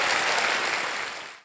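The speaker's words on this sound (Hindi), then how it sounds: "एक बार जोरदार तालियां बज जाए" Studio audience on a televised quiz show breaking into loud, dense applause that holds steady and then fades out quickly at the end.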